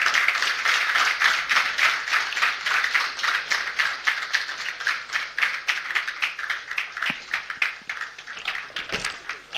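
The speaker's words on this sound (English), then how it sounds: "Another round of applause for His Excellency, the Executive Governor of Kaduna State, please" Applause for the governor of Kaduna State at a state roundtable engagement, lively sustained clapping from a room of people, close and uneven, with some sharper individual claps standing out.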